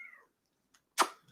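A cat gives a short meow, then after a quiet pause a louder, sharper mew follows, close to the microphone, with faint noises trailing at the end.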